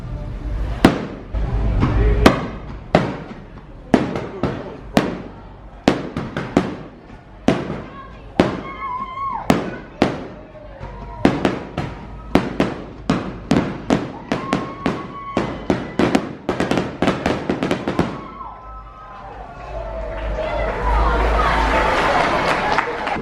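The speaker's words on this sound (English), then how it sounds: "sit here in these seats and enjoy the fireworks is a clear yes" Fireworks display on a Disney cruise ship's Pirate Night: a long run of sharp, loud bangs and crackles in quick succession, with crowd noise swelling at the end.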